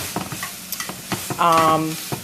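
A utensil stirs and breaks up ground beef in a hot pan in short scraping strokes, with a light sizzle of frying underneath and no voices.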